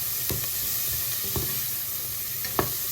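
Onion with red and green peppers sautéing in a pan, a steady close sizzle with a few sharp scrapes of stirring spread across the stretch and no talking.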